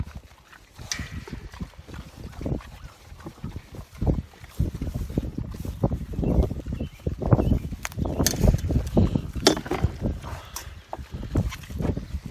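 Gusty outdoor breeze on a mild evening around sunset while planting trees with a dibble, buffeting the microphone in uneven rumbling bursts, loud and close throughout.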